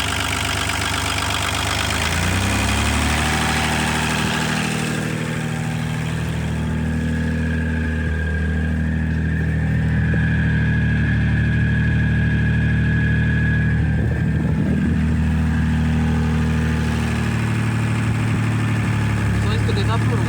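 An engine idles at lowered revs, giving a steady low rumble with a slight shift in pitch, while people talk quietly over it.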